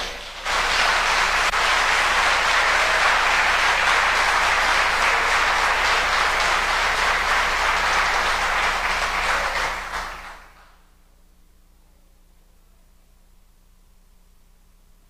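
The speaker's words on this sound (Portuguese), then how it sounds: "Dê um aplauso a Jesus" A church congregation bursts into loud, dense applause that holds steady for about ten seconds, then stops abruptly and leaves only faint room hum.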